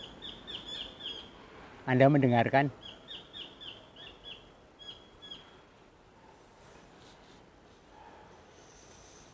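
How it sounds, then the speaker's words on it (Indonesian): Many birds chirp and call in the canopy of Ketu forest near Wonogiri, Indonesia. Repeated high, fairly faint chirps continue through the whole stretch, and a man's brief spoken question breaks in loudly partway through. "di atas juga saya melihat banyak burung yang sekarang ini sedang berkicau"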